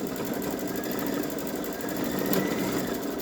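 A Babylock Solaris embroidery machine stitches out a design on a boy's t-shirt with a steady, fast mechanical whir and rapid needle chatter, continuous and close for the whole stretch, with no talking.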